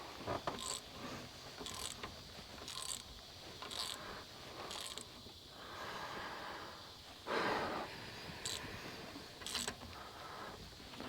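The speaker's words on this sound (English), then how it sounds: "I'm going to go ahead and loosen this one up too." A ratchet with a 5/8 deep-wall socket loosens a bolt on a 1967 Starcraft Holiday boat's 120hp Mercruiser engine, with rapid repeated clicking strokes, faint and close, in short bursts with quiet gaps.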